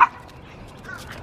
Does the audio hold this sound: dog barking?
yes